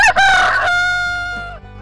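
A rooster crows loudly and close, one long cock-a-doodle-doo that rises sharply and trails off.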